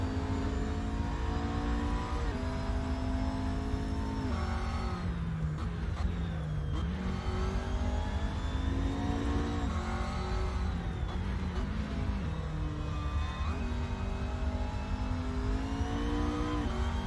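A race car engine in the Assetto Corsa driving game, revving hard and continuously with rising and falling pitch as the car shifts gears, loud and close throughout.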